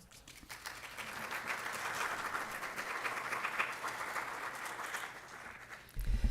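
Sustained applause fills a board of education meeting during an awards presentation, a steady wash of many hands clapping at moderate distance, building slightly then fading near the end.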